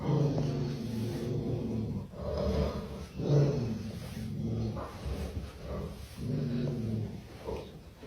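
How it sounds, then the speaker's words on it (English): A dog growls and snorts in low, rumbling bursts with breathy pauses between them, close and moderately loud, with no talking. "she started barking, and she growled"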